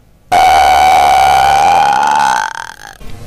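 A long, loud, steady burp after drinking two Pepsis, with a buzzy, tone-like quality that holds for about two seconds before breaking off.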